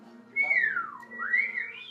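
A clear, close whistled tune gliding up and down in pitch, with a low steady hum underneath.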